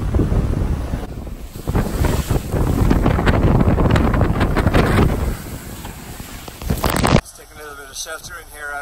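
Strong wind buffets the microphone on an exposed stretch of Irish coast with rough sea surf roaring behind it, loud and continuous, then it drops off sharply as a voice begins speaking in shelter.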